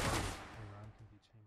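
Automated turret gunfire in the video game Receiver comes as a loud opening blast that decays, then a few quicker, fainter shots follow in a short burst, with a voice partly heard beneath.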